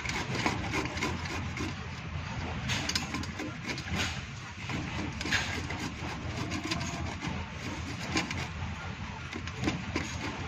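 Cauliflower florets and stem rubbed steadily against the fine side of a kitchen grater, a continuous close scraping rasp with no speech.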